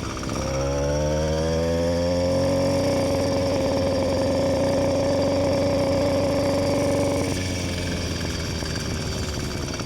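A Yamaha YD100 motorcycle fitted with a Phantom 85 exhaust revs up from idle into a sustained high, buzzing two-stroke wail, holding for several seconds before dropping back to a rough idle, loud and close.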